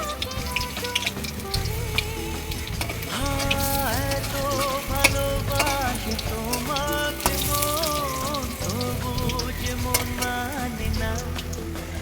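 Bitter gourd leaf fritters fry in hot oil with a steady, busy sizzle and crackle, while music with melodic tones plays over it throughout.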